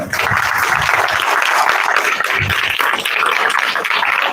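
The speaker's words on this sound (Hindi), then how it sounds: "तालियां बजा के बताएंगे कौन कौन लेने वाला है" Steady, dense applause from a large audience at a personality development camp in Nashik, loud and continuous throughout with no pauses.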